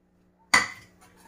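A blender container is set down or handled in a home kitchen while mustard greens are being prepared, producing one sharp clink with a short ringing decay, followed by a couple of faint light taps.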